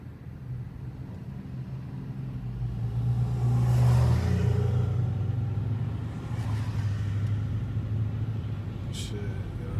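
2008 Dodge Charger SRT8 driving in the rain, a continuous low engine and road rumble that swells briefly midway as the car accelerates, then settles back to a steady cruise.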